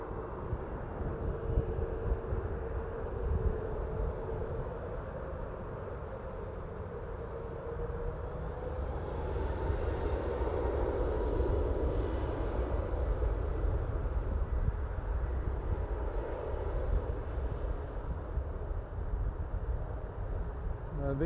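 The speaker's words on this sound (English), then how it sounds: "This is Air Canada going to Halifax, I believe. No, Quebec City. Boeing 737 MAX 8." An Air Canada Boeing 737 MAX 8 airliner bound for Quebec City at Toronto airport gives a steady, broad jet roar that swells slightly midway and holds at moderate distance for about twenty seconds.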